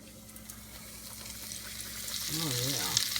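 Chicken pieces frying in hot grease for a homemade Popeyes-style chicken sandwich, a steady close sizzle that grows louder toward the end, with a voice talking briefly over it.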